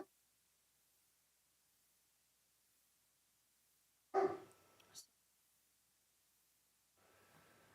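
A dog gives a short burst of barking, close and fairly loud, then falls quiet against a near-silent room, with a faint rustle near the end.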